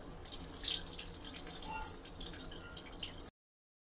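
A water tap runs steadily onto a GoPro Hero 10 wrapped in polythene, giving a continuous hissing splash with faint drips for about three seconds before it cuts off, close and with no voices.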